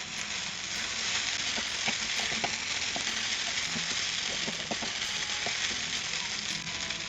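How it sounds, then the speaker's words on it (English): Podi rice sizzles and fries in a pan while being stirred now and then, a steady close crackle with soft scraping stirs scattered through, no voices. "And just let it cook for a while. Stirring it occasionally."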